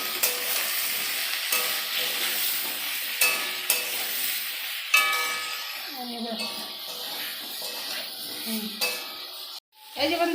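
Potato and eggplant fry in a pan, a continuous sizzle broken by spatula clinks and stirring scrapes against the pan, with a voice talking intermittently.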